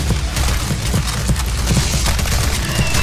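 Rapid bursts of gunfire from the game CS:GO, zombie escape mode, dense and continuous with overlapping shots filling the whole stretch, loud and close throughout.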